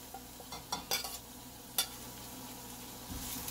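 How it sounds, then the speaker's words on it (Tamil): Onions, carrots and green chilli sautéing in a pan, a low quiet sizzle broken by a few scraping stirs of a spoon near the start and middle, then a louder rush of frying at the end. "வெங்காயம் கேரட் நல்லாவே சாஃப்டாக வதங்கியிருக்கு"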